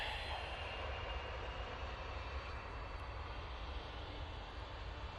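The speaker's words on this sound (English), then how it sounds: "(787-9) Dreamliner going off to Paphos now." A TUI Boeing 787-9 Dreamliner departs with a constant broad jet roar, distant but steady and unbroken throughout, with no voices over it.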